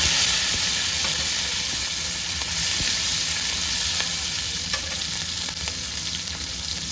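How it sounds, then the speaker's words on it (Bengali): Chopped green chillies and garlic fry in hot oil with a steady, close sizzle that stays loud and even throughout, with a few faint clicks and no talking. "কাঁচা লঙ্কা কুচিগুলো দিয়ে দেবো"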